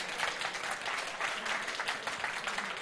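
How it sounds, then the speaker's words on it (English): A conference audience at an exhibition industry talk claps in a steady, even round of applause, moderately distant and fairly quiet throughout. "Have a round of applause."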